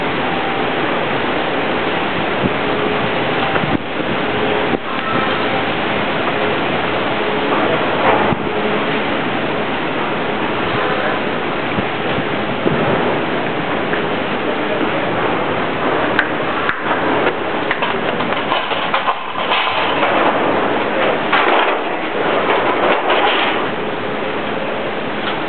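A condensate transfer pump runs inside an industrial building, giving a steady, loud, broadband rushing drone that holds unbroken throughout, close to the listener.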